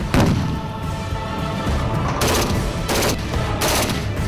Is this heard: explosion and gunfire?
yes